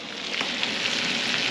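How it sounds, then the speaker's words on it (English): Honey teriyaki alligator bites fry in hot grease, giving off a steady, dense crackling sizzle that stays close and even throughout with no voices. "These are the honey teriyaki gator bites that we're finishing frying right now."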